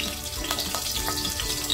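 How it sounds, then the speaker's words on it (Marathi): Garlic cloves dropped into very hot oil for tempering a curry: a steady, crackling sizzle close by with small popping spits, continuous and fairly loud. "ही लसूण टाकते"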